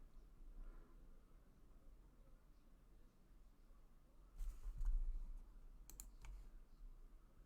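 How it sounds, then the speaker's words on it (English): Several people type on computer keyboards during a class break, soft scattered key clicks with a few louder bursts near the middle, quiet and without talk. "Several people are typing."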